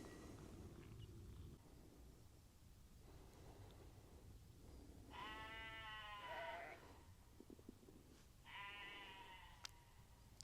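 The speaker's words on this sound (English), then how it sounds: "the sheep are doing it for me" Sheep bleating outside a hillside church, two clear harmonic bleats a few seconds apart over quiet outdoor ambience with faint rustling.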